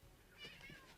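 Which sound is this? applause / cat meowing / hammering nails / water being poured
cat meowing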